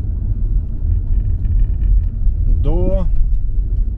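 A car drives along a road on Russky Island between the village of Podnozhye and University Avenue, partly on new asphalt, giving a steady low rumble throughout with a voice speaking briefly over it.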